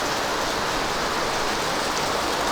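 Heavy typhoon rain pours down in Barangay Lunoy, a dense, steady hiss and roar that stays loud and even throughout with no voices.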